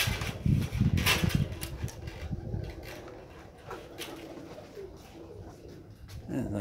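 Young September pigeons coo softly around a loft perch, with low throaty calls and a few wing rustles over a faint mechanical hum.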